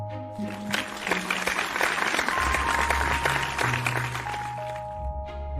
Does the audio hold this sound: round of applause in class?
yes